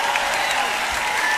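Audience applause at an outdoor anniversary concert on the Műegyetem riverside quay, a steady dense wash of clapping from a large crowd filling the whole moment without breaks.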